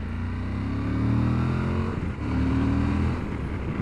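A Suzuki V-Strom 1050 XT motorcycle accelerates hard in second gear, its engine note climbing in a loud, steady roar with a brief dip partway through before it pulls again.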